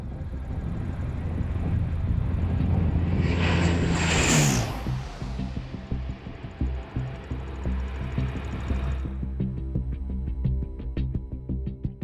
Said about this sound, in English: When it comes to guiding a 50-ton plane traveling at 200 kilometers per hour safely into land, there's no room for improvisation.